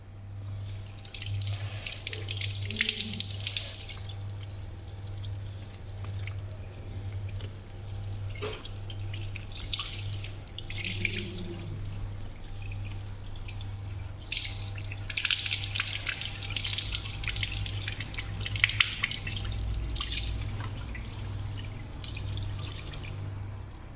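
Water runs steadily from a tap into a sink while an item is rinsed beneath it, a constant splashing stream with shifting gurgles and a low hum underneath, fairly quiet and close, no voices.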